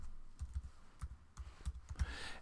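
Keys tapped on a computer keyboard spell out a single word, a quick irregular run of close, crisp clicks in a quiet room with no talking.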